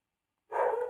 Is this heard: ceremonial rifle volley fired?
no